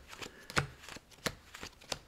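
Playing cards being dealt out one at a time from a deck, giving a series of quiet, close snaps and flicks at an uneven rhythm, with no talking.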